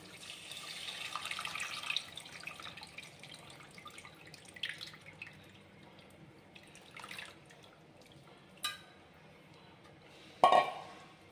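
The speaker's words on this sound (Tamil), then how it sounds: "இப்போ நம்ம புளித்தண்ணியை ஊற்றிக்கிடுவோம்" Tamarind water goes into a curry pan for Chettinad fish curry, a gentle pour with drips and trickles, then a sharp metallic clink of utensils near the end, close and fairly quiet.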